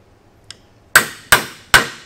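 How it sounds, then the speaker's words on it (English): A hammer taps a Mac Tools extractor socket down onto a bolt: one faint light tick, then three sharp metallic strikes at an even pace, close and loud. "And Brent, grab yourself a hammer and drive it down on there."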